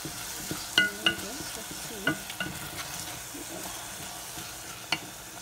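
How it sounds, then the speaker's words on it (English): Chopped asparagus sizzles and fries in a pan, with a steady close crackle broken by a few sharp clinks and stirring scrapes and no talking. "here is sizzling"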